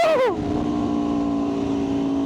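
A McLaren sports car passes close by. Its engine note drops sharply in pitch as it goes past, then a steady engine drone carries on.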